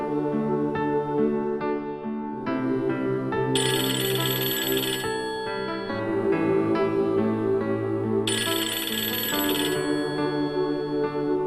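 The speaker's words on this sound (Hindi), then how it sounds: "फोन बज रहा है।" A mobile phone ringtone plays on its own in a Pakistani drama scene, a steady melodic tune with harmonic notes and bright repeating bursts, loud and continuous with no talking.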